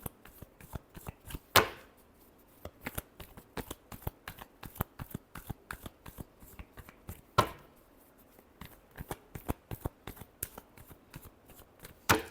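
Tarot cards shuffled by hand in rapid riffling bursts of crisp flicks, close and fairly quiet, with two sharper slaps where the deck is squared, and no talking.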